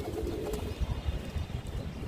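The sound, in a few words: pigeon cooing, returned homing pigeon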